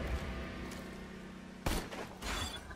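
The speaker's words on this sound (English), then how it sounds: "I want to see how much this sniper rifle does in one shot" Sniper rifle in Borderlands 2 firing a single sharp, loud shot in the middle, followed by a second burst of impact noise over a steady game hum.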